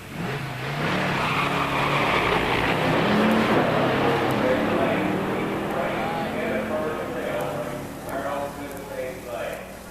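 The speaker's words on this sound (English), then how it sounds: "In the near lane, Chet Varner's 69 Mustang 428 SCJ 4-speed. In the far lane, Bob Karkashian's 69 Super B 440 6-pack automatic." Drag race between a 1969 Mustang 428 SCJ four-speed and a 1969 Super Bee 440 six-pack automatic, engines roaring loudly and fading while an announcer speaks over the noise.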